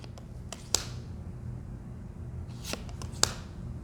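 Tarot cards are shuffled quietly up close, with a few crisp snaps and soft riffles spaced out over near silence.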